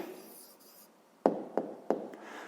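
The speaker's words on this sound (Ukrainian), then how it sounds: "Пишемо відповідь." A pen writes out the answer to a fifth-grade maths exercise by hand, giving three sharp taps and scratches against a faint background hiss, close and fairly quiet.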